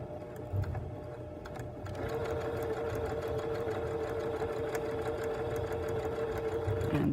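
A sewing machine stitches down an invisible zipper seam, starting after a short pause and then running in a steady, fast, close mechanical hum with rapid needle chatter to the end.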